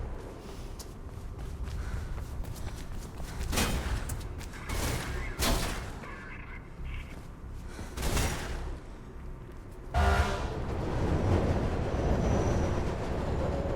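A rumbling subway train in the video game Mirror's Edge rolls past with rhythmic wheel clatter and occasional squeal-like sweeps, swelling louder toward the end, with no talking.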